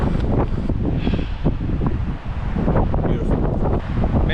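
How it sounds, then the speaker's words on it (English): Wind blows hard on a nature hike, a loud continuous rushing buffet across the microphone with gusty swells and no clear voices. "It probably will still be a little windy,"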